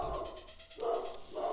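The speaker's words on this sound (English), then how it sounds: "Hold on, my dog is barking." A dog barks in muffled, distant bursts from another room, three loose yaps over a low background hum.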